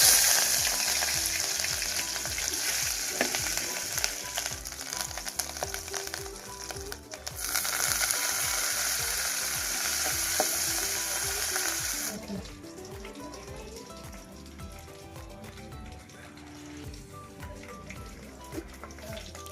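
Loud, steady sizzling of tempering spices frying in hot oil for khaman, crackling throughout, with a quieter, settling sizzle in the later part.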